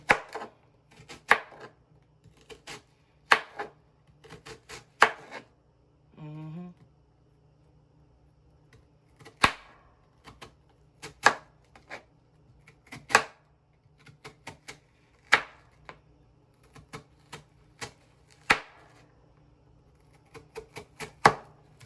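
Onion and garlic are chopped by knife on a cutting board for a seafood sauce, giving sharp, evenly spaced thuds that repeat steadily for about twenty seconds at close range, with a brief scraping sound partway through.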